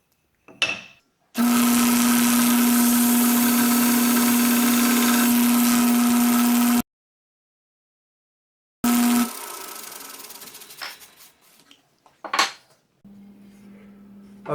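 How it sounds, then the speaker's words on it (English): A power sander works on wood held square at 90 degrees in a dowel jig. The motor whirs steadily for about five seconds, stops, restarts for a brief burst, then gives a few short, uneven runs and clatters. "we can sand 90 degrees using our jig"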